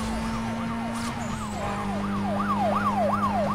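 Police siren in Need For Speed Most Wanted wails in steady rapid up-and-down sweeps over a constant engine drone, loud and close throughout.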